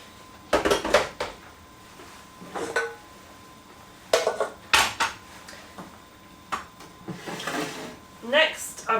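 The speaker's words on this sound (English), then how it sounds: "Move the kettle out of the way." A kettle is shifted across a kitchen counter while baking, giving a series of clattering, scraping knocks in irregular bursts, close and fairly loud, with a rattle like dishes and cutlery among them.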